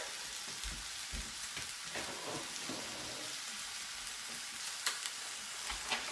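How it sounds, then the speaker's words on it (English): Ground beef, a full pound, sizzles and crackles steadily in a pan, with a few louder pops and stirring scrapes near the start and end; no one speaks. "Let me go ahead and add the meat to the pan now."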